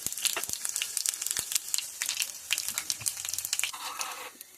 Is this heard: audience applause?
no